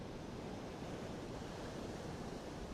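Surf breaking on a Costa Rica beach makes a steady, unbroken roar of rushing water that stays loud and even throughout, with no voices.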